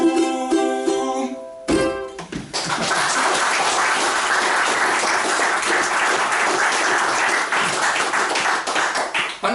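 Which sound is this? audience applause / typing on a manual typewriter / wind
audience applause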